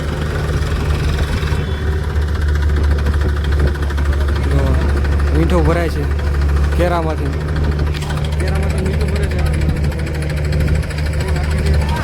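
A tractor engine idles steadily with a loud, constant low drone while salt is loaded into it, with a person speaking nearby and a few brief chirping sounds over the hum.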